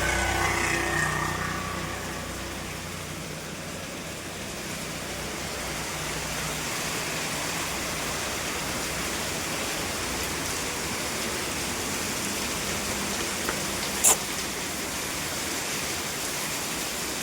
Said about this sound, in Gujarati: વરસાદ ચાલુ જ છે, બંધ થયો જ નથી.